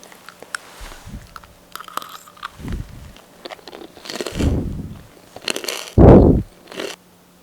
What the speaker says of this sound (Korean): 먼저 오리지널 바삭바삭 치킨딥부터 먹어보겠습니다.